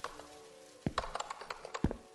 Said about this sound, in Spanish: ¡Están tecleando!